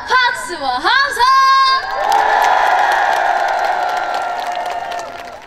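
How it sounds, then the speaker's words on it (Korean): A large outdoor festival crowd at Yeouido Park cheers, whoops and claps loudly, with children's shouts rising over the din, following an amplified voice at the start and swelling into sustained applause and cheering. "남산이 흔들릴 정도로 한 번 더 박수와 함성!"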